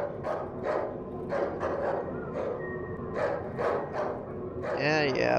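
Several dogs bark in bursts in the horror survival game Darkwood, sounding like a pack, with a speaking voice over parts of the barking and a whining, wavering tone near the end.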